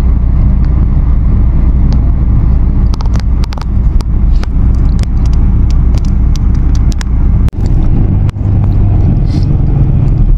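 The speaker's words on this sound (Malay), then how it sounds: "Bas ni singgah sini." Heavy bus engine rumbling loudly at Gombak bus station as the bus pulls in and stops, with a steady low drone and occasional sharp clicks and knocks, no talking.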